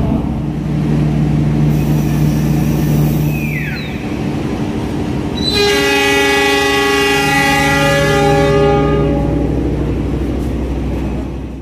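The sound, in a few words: passenger train running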